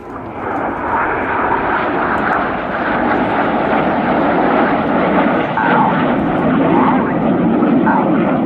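Red Arrows jet aircraft flying a display manoeuvre at an air show, a loud, continuous broadband jet roar that holds steady throughout with slight swells, heard from a distance over open ground.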